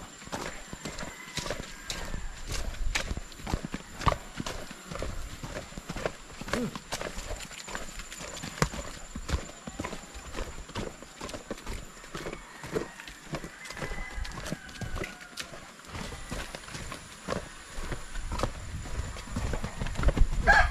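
Hooves of a horse being led on foot up a mountain trail clop in an uneven, steady series of close, sharp knocks across the whole stretch, over faint outdoor background noise.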